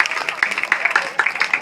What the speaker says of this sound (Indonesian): Tepuk tangan semeton itu yang hebat.